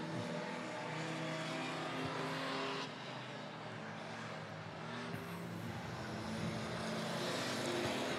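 Bomber class race cars lapping during a heat race at Monett Motor Speedway, a continuous engine roar that swells and shifts as cars pass, fairly distant and without talk.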